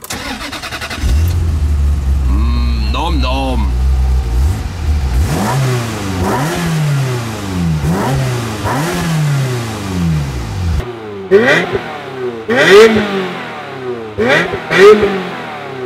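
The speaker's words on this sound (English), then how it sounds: "I'm gonna turn her on so you can see what she sounds like." A Ferrari 355 Berlinetta's engine cranks and catches, then revs repeatedly in sharp rising and falling bursts, loud and close, with a brief spoken interjection partway through.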